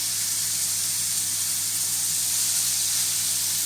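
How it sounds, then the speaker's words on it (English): Pork sizzles in a hot pan, a dense, steady hiss of frying fat heard up close and fairly loud, with no speech over it. "Oh, right, we've got some sizzle."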